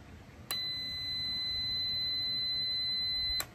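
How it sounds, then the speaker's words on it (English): A multimeter gives a continuity beep while testing a switch, one steady high-pitched electronic tone held for about three seconds, clear and close over faint background hiss. "if there's continuity, it's gonna make a sound"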